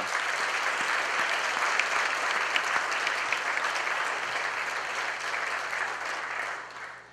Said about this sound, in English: Let's give this group another big round of applause.